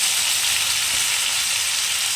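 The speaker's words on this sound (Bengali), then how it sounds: "কুমড়োটাও কিন্তু দিয়ে দিয়েছি আমি এরপর একসঙ্গে নাড়াচাড়া করবো সমস্ত ভেজিটেবিলগুলো" Mixed vegetables with pumpkin fry in a pan while being stirred together, producing a loud, steady hiss of sizzling oil that runs unbroken throughout, with no voices.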